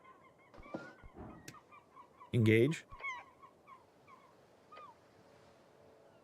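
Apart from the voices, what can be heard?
bird honking in a video game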